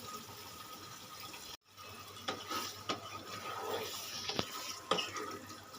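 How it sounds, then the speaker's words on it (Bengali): A small splash of water is poured into a cooked mustard and poppy seed spice masala for a pointed gourd curry, with wet stirring and spoon clicks around a brief pause. "এবার এখানে আমি দিয়ে দেবো অল্প পরিমাণে জল"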